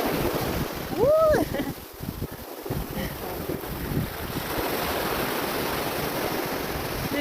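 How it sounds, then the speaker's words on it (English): Hawaiian ocean waves wash steadily onto a shore in a continuous, wind-buffeted roar. A voice briefly rises in a sung or whooping tone near the start. "waves, oh the waves, oh the waves, oh the waves"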